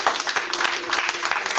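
Congregation bursts into steady applause and acclamation during an Easter church service, a dense wash of many hands clapping at moderate volume without a break.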